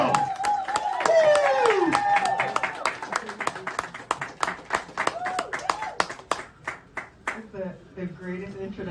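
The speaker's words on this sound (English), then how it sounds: "Let's bring them out with a thunderous round of applause." An audience at a book event gives Wallo267 a big round of applause: steady, dense clapping that thins out into scattered claps, with a whoop and some voices over it.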